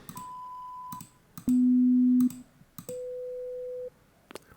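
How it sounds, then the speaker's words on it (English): Three plain synthesized tones from a very basic synth, played one after another at clearly different volumes, each holding steady for about a second with short clicks and quiet gaps between them. "3 different tones at different volumes"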